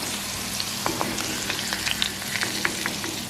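Pieces of squid deep-frying in hot oil give a steady, close bubbling sizzle, with occasional sharp pops and crackles and light scraping of a utensil stirring the pan, and no one talking.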